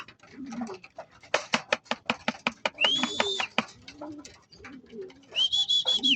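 Pigeons by a covered court roof, a racing loft of breeder-fed birds, give soft cooing mixed with wing flutters and scuffling, with a couple of higher whistling calls standing out over the steady murmur.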